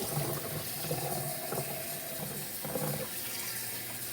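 Running water rinses steadily over an object being washed at the top, a continuous close splashing and trickling stream with slight gurgles and no voices.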